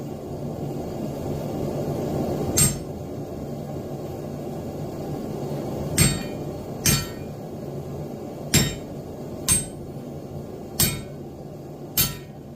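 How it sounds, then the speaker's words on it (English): A hammer strikes a homemade leaf forging tool, seven sharp ringing metal hits spaced irregularly over a steady background hum, loud and close. "my hammer will have somewhere to hit"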